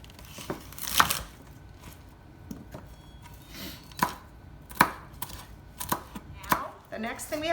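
Vegetables being chopped on a board, irregular sharp knife strikes with crisp crunching and tearing between them, close and fairly quiet, no talking.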